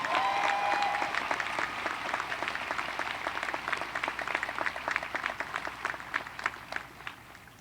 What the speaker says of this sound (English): Ladies and gentlemen, one more huge round of applause for Devin Coombs